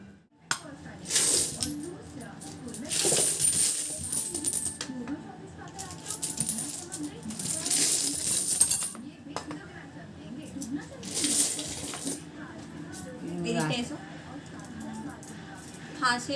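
Coins clink and rattle in several loud bursts as a broken duck-shaped coin bank holding thousands of coins is emptied, with pieces of ceramic shifting and a person talking between the spills.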